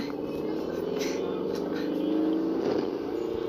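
Car engine revving in the Project Bengal video game, a steady, loud droning roar that holds for several seconds without a break.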